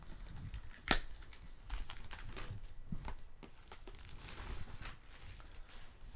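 Plastic fan merchandise packaging for a Kim Wooseok NIA fankit being handled and pulled open, with soft crinkling, rustling and a sharp snap or tear near the start, steady and close with no talking.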